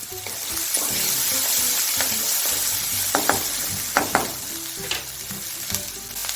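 Curry leaves hit hot oil with a steady, hissing sizzle for chhole, joined by a few sharp crackles and pops near the end, close and fairly loud, with no talking.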